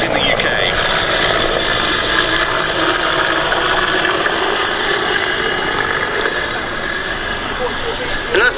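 A Czech Mil Mi-24 Hind helicopter flies its display at the Duxford Battle of Britain airshow, a loud, sustained rotor and engine roar that stays close and steady.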